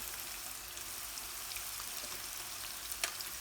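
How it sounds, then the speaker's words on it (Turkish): Eggplants frying in a small amount of oil for karnıyarık, a quiet steady sizzle with soft crackling pops and one sharper spit near the end. "Çünkü patlıcanlar zaten yağlıdır şu şekilde kızartıyorum."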